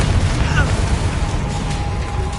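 Confringo blasting spells going off in the Hogwarts Legacy video game make a loud, dense rumble of booming blasts, with constant roaring combat noise and no quiet gaps.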